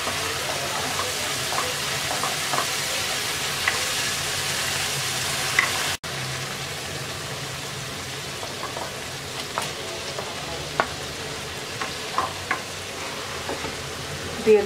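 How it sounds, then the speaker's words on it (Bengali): Fried potatoes sizzle in a spiced masala in a pan, a steady close frying hiss broken by scattered stirring scrapes and clicks, alone without talk. "এবার দিয়ে দিচ্ছি ভাজা আলু।"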